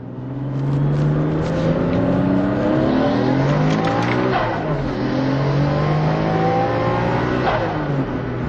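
A 1995 Nissan Skyline GT-R R33 making over 500 wheel horsepower roars at wide open throttle, pitch climbing through several gear shifts, loud and close, with no talking.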